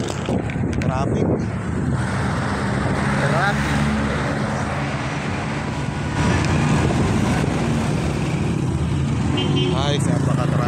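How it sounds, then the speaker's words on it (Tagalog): Dense road traffic with cars and trucks, a steady loud wash of engine and tyre noise with wind buffeting the microphone, passing vehicles blending together while a person talks close by. "Ay, napaka-traffic guys."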